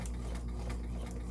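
A Kenmore 1802 sewing machine runs steadily at close range, a continuous rapid stitching whir with fine ticking pulses and no talk.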